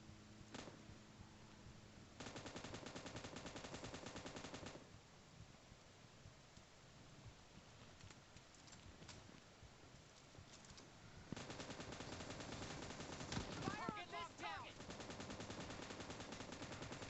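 Automatic gunfire in a shooting video game rattles in long sustained bursts, pauses for a quieter stretch, then resumes, with no voices over it.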